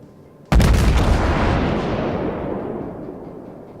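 Naval gun shells firing in World of Warships, a sudden heavy boom after a quiet moment, followed by a long rolling rumble that slowly fades over several seconds.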